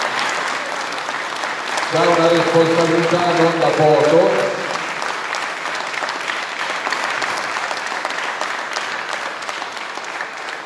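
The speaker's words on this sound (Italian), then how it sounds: "fategli un applauso per loro" Crowd applause at an outdoor political rally in Todi, a broad continuous patter of many hands that carries on under someone speaking over a microphone and slowly thins toward the end.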